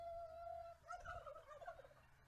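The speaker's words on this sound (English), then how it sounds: "Make them gobble." Turkeys gobble outdoors beside a cornfield, a run of rapid, warbling gobbles at moderate distance following a steady tonal hum, with no talk over them.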